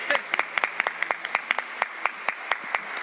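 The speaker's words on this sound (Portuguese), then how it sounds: "Obrigado também ao Padre Valdecir, uma salva de palmas mais uma vez." Congregation clapping at a Mass during a triduum for Saint Peter, a small group's sparse, rhythmic, close hand claps with distinct separate strikes, fairly loud and steady.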